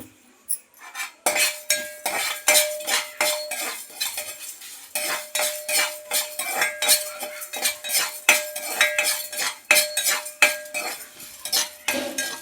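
A metal spoon stirs cumin seeds and dried red chillies in a pan, giving steady, repeated scraping and clinking strokes close up, with a short pause partway through and no talk.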